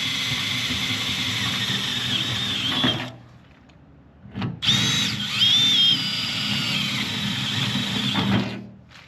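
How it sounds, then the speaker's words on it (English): Cordless power drill boring holes in a Mercedes Sprinter van panel, two loud close bursts of high whining spin separated by a short quiet gap, the second with a changing pitch. "now that we have those holes drilled"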